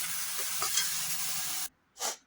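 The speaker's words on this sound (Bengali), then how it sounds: "মশলাটাকে ভালো করে ভেজে নেবো" Spice paste of ground chilli and turmeric sizzles loudly in a hot pan with stirring scrapes, then cuts off abruptly before a brief final burst of frying.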